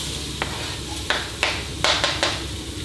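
Onions going into hot olive oil in a soup pot give a steady low sizzle, broken by a handful of sharp scraping stir strokes. It sounds close and moderately loud, with no talking.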